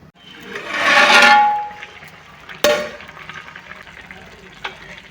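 Crab biryani rice being stirred in a cooking pot for a spicy South Indian dish: a loud swelling scrape of the spoon through the rice, then a sharp metallic clang, and a quieter tap later on.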